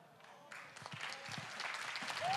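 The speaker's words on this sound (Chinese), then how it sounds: "我们掌声鼓励鼓励。" An audience claps at a singing contest final, starting thin and swelling into fuller applause over a couple of seconds.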